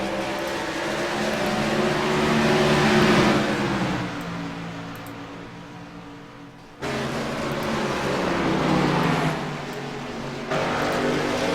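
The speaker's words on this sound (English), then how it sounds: "you can't even hear yourself think them engines are so loud" Race truck engines roaring at a Phoenix truck league race, a loud sustained drone that swells and fades as trucks pass, with an abrupt cut and a second roaring pass.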